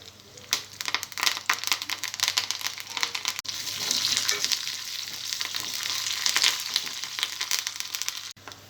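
Garlic, dried red chillies and curry leaves hit hot oil for a tempering, giving a loud, steady crackling sizzle with scattered sharp pops and stirring scrapes, unbroken by voices.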